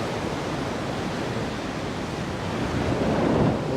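Sea waves crash against the seaside wall of the Hassan II Mosque in Casablanca, Morocco, making a loud, continuous roaring wash that surges near the end, with wind and no voices.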